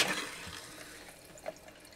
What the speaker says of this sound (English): You also want to make sure you have just a little bit in the actual faucet up here, so we run that. Now we'll go ahead and do the sink.